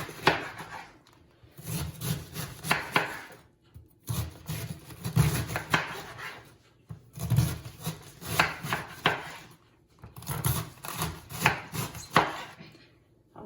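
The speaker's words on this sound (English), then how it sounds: "we're going to chop it, as I said, into quite little pieces" A knife chops half a red cabbage into small pieces on a cutting board, in four bursts of quick, rhythmic thuds separated by short pauses, close and clear with no talk.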